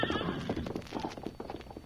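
Horses are driven off in an old Western setting, their hooves clip-clopping in a rapid, busy rhythm with a whinny mixed in, fairly close and moderately loud.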